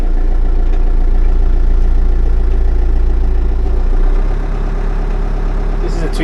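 A 2007 Branson 6530 tractor with a 65-horsepower Cummins B3.3 diesel idles close by with a steady low throb, its tone dropping slightly and settling lower partway through.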